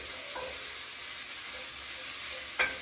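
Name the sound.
sausage and fish frying in a pan with herbs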